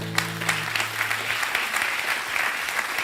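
Audience applause for a singer fills a comedy stage show, a dense steady clatter of many clapping hands that holds evenly throughout, with a brief sustained musical tone fading out at the start.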